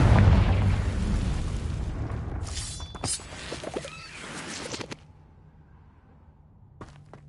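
A Confringo spell explosion in Hogwarts Legacy opens with a heavy low boom that decays over several seconds, followed by scattered crackling bursts and pops before the scene quiets.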